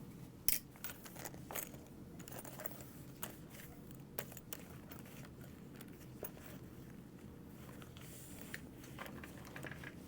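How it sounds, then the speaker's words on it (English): Scissors snip through fabric while a mini backpack is being sewn, a few quiet, close cuts scattered over a low steady background hum. "so I'm just gonna cut this"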